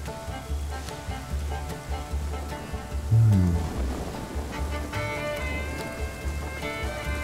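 Steady hiss of rain falling in the video game Ghost Recon Wildlands, a soft continuous wash with a brief louder swell partway through and faint low rumbling beneath.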